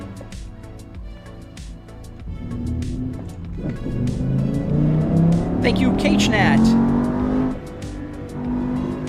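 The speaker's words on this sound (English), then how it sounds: "This is the M5 E60. Pretty cool car. V10, as, obviously it has to be." A BMW M5 E60 with its V10 engine revs and accelerates, its harmonic engine note rising and falling loudly over several seconds, while people talk over it.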